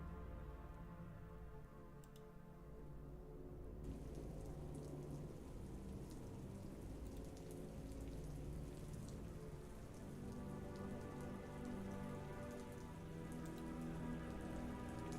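Steady rain falls outside an open window, a constant soft hiss of drops on surfaces that continues evenly and faintly without pause, with no talking.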